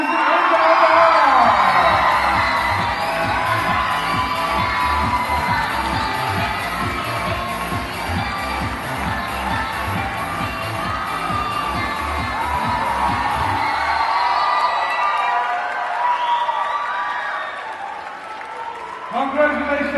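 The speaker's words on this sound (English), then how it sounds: "Big round of applause to our two characters." Large crowd at a World Cosplay Summit final in Singapore whoops, cheers and applauds loudly for the winning pair, a host talking over the noise before it fades near the end.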